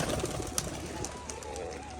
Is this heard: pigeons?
yes